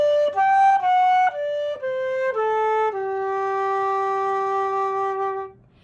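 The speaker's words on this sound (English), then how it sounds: "So the arpeggio sounds like this." A descending arpeggio played on a band instrument, single clear sustained notes stepping down one after another, the last low note held long before fading, heard alone.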